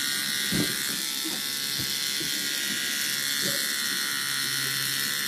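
Electric clippers buzz steadily and close by throughout a head shave, a continuous motor whine with small shifts in load as the blades move over the scalp and brief low thumps from handling.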